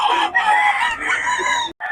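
A rooster crows loudly and close at a quality gamefowl farm, one long harmonic call filling nearly two seconds before cutting off abruptly, with a brief new call starting at the end.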